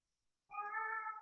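A cat lets out a single clear meow, close and fairly loud, rising out of near silence and lasting under a second.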